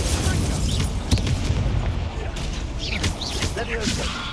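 In Hogwarts Legacy, an Incendio fire spell goes off as a run of booming bursts and crashing impacts, with whooshing flares layered over a dense, busy game soundscape.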